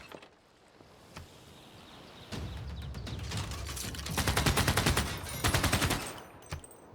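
Field cannon fire in Civilization VI, a fairly faint burst of rapid cracking shots that swells into a dense rattling volley, then tails off into a few scattered reports.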